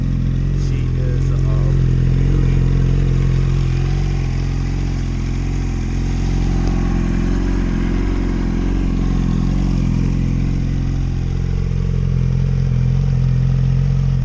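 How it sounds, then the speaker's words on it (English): A 2007 Yamaha R1 sport motorcycle engine runs steadily at idle with a deep, even drone and a faint mechanical clatter, close up and constant throughout. "we got the new 2007 Yamaha R1 motorcycle"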